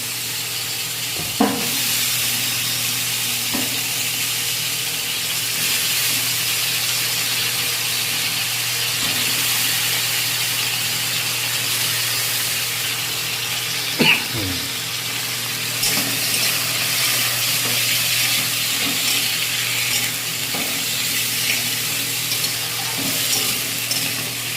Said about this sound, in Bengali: পাঁচ ফোড়ন দিয়ে দিলাম, দিয়ে এতে আমি সবজিগুলো তুলে দেবো